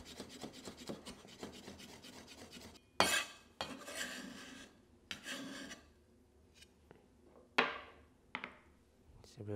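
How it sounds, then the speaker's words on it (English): A knife chops garlic finely on a wooden board, first with rapid light taps, then slower scraping strokes and separate thuds with quiet gaps between, close and clear with no talking. "Finely chop your garlic."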